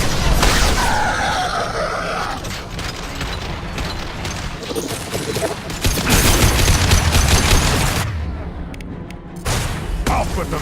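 High-impact gunfire in the Mass Effect 2 video game, dense rapid bursts of shots and booms over continuous battle noise, filling most of the scene with a short lull near the end.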